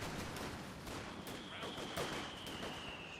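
Rifle fire from infantry riflemen in the World War II strategy game Company of Heroes 2, with a series of sharp, fairly quiet shots and bursts crackling over busy battlefield noise.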